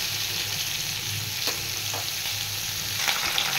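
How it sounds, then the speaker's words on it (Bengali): Bitter gourd and potato pieces frying in white oil with salt, turmeric and a few green chillies in a kadai, giving a steady, dense sizzle throughout with a few faint stirring scrapes. "সাদা তেলে রান্না করবো, তো তেল দিয়ে দিয়েছি, উচ্ছে আলুটা ভেজে নেব"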